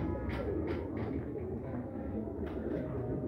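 Pigeons cooing at a breeder's loft, several soft repeated coos in a rhythmic series over a constant low background hum.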